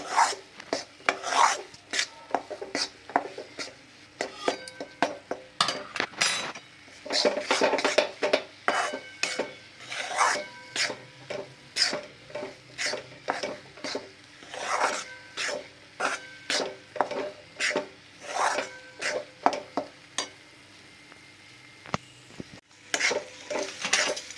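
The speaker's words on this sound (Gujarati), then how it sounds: "બાજરીનો લોટ ચીકણો વધારે હોય છે તેથી ધીમા ગેસ ઉપર હલાવતા જઈશું" Sticky bajri (pearl millet) flour stirred in a pan over a low flame, with a steady run of scraping, rasping spatula strokes against the metal throughout, close and fairly loud with no voices.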